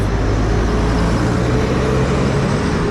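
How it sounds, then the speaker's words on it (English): A loud bus rumbles past close by, its engine drone and road noise filling the whole moment steadily, with no voices. "thank you, noisy bus"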